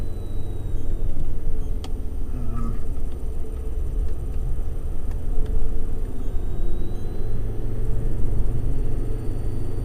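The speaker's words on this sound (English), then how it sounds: "I love this car because of the amount of grunt it has, especially when I'm driving up the hill, up the mountains." Ford Ranger Wildtrak pickup driving on a wet mountain road recently cleared of rock slides, a constant heavy cabin rumble of engine and tyres with a few faint clicks and taps, no talking.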